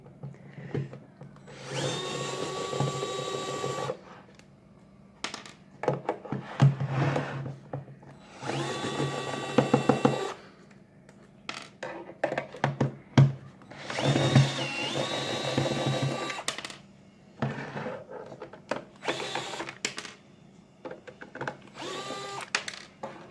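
A power drill spins out the long screws holding a space heater's case together, in several whining bursts of varying pitch separated by short pauses and small clicks and handling knocks, close up with no talk.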